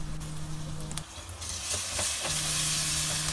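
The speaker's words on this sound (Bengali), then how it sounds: "আদা রসুন বাটা দেওয়ার পর আমি পেঁয়াজের সাথে খুব ভালো করে ভেজে নিচ্ছি।" Onions fry in a pan with ginger and garlic paste for a Bangladeshi beef curry with cauliflower, a soft hiss under a low hum that brightens into a louder, sustained sizzle with a few stirring clicks.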